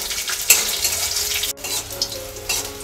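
Green chillies and black cumin frying with garlic in a pan, giving a continuous close sizzle with a few sharp stirring clicks and brief pops.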